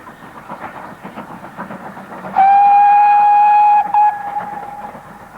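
A train works up a steep gradient on the open line shortly after Bronwyth Arms, beside a river valley, its steady rumble and clatter broken by a loud, sustained whistle held for over a second and followed by a brief second toot.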